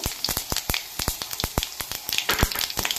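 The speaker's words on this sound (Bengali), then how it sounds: "5 ফোড়নটাও শুকনো লঙ্কার সাথে ভালো করে ভেজে নেব" Dry red chillies and panch phoron crackle in hot oil, close and fairly loud, with a steady run of sharp, irregular pops and spits and no voices.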